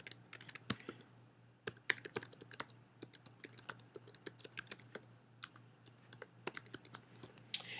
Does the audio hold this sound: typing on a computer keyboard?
yes